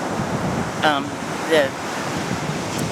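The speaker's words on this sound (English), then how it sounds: "to watch those waves forever" Ocean surf washing onto the shore at San Diego, a steady broad roar of breaking waves throughout, with a voice briefly heard over it twice.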